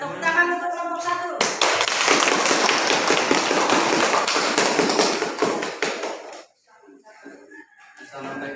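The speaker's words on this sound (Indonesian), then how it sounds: "Ya, tepuk tangan untuk kelompok 1." A classroom of students bursts into lively applause for a group, dense clapping lasting several seconds after a brief voice, then fading out as talk resumes.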